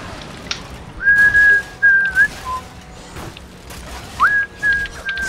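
A person whistles clear sustained tones in two separate phrases, each rising into a held note, with faint background noise between them and no other prominent sounds.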